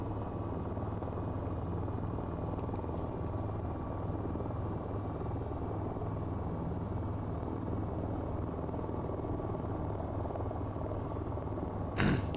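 An AH-64 Apache helicopter engine in the VTOL VR game winds down toward idle, a steady, even turbine drone and rotor hum, ending with a short sharp click.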